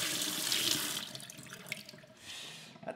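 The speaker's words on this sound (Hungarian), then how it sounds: "Próbálom lassan engedni a vizet" Water runs steadily from a tap into a sink, a broad hissing splash that swells and eases slightly over a few seconds, close and fairly loud with no talking.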